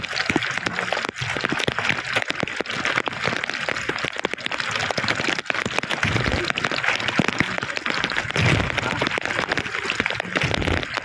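Heavy rain pours down in a dense, crackling patter that goes on without a break, close and fairly loud.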